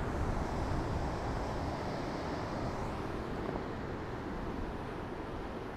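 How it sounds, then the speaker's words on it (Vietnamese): Big sea waves on the Vĩnh Hy coast make a continuous, dense roar of surf that holds at an even, fairly loud level, mixed with wind noise. "Sóng to thế."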